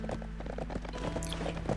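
Horses' hooves clip-clop in the Black Desert game, a brisk, steady patter of several steps over low ambient hum, fairly close and without talk.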